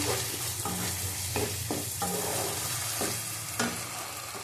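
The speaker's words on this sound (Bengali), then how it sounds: "এই যে আলুগুলি সব দিয়ে দিলাম। এটা দিয়ে ভালো করে কষিয়ে নেব।" Potatoes are sautéed and stirred in a hot pan, with a steady close sizzle and intermittent scraping strokes of a spatula; no talk.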